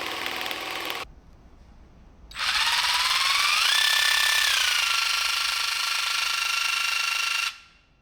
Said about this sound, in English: This saw handles a variety of materials with ease, including wood, PVC, aluminum